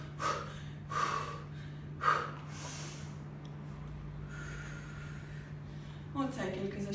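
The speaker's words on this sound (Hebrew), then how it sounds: "עוד סייקל כזה של נשימה ונשיפה" Sharp exhales and breaths repeat at an irregular pace during a bodyweight glute and abs workout, heard close and fairly faint over a steady low hum, with a person speaking near the end.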